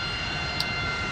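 An F-5E jet's engine in the Digital Combat Simulator flight game drones as a continuous, even roar, with no breaks or voices over it.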